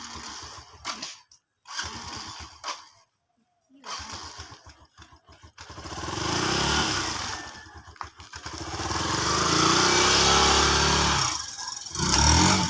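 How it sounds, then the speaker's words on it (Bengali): A motorcycle being ridden: scattered clatter and handling noise at first, then the engine rises into a loud, steady, close drone, dips briefly and returns strongly with revving. "একজন বাইক চালাবে"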